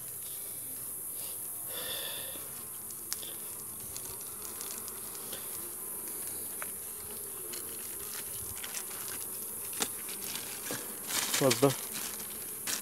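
Honeybees buzz steadily around an open hive during care of a weak colony, with foraging bees in the boxes; the hum stays constant under occasional handling clatter and a brief spoken word.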